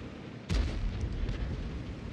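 A T-44-100 tank fires its cannon in a video game battle on the Murovanka map, a single sharp, heavy boom followed by a lingering rumbling tail.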